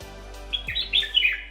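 Birds chirp and tweet outside a hotel room sit-out in cool Ooty hill weather, bright calls rising and falling over a steady low hum, with no talking.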